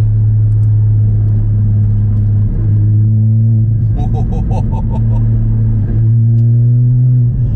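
Porsche Cayman GT4 981 engine idling and revving with its exhaust valves open, a deep, muffled and steady low rumble that swells briefly around the middle, heard up close and continuous throughout.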